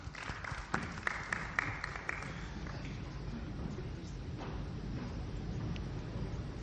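Audience applause at a formal event honouring candidates, among them Kenya's former Prime Minister Raila Odinga and a candidate from Madagascar: steady, roomy clapping with a few sharper claps early on, then a dense wash of crowd noise.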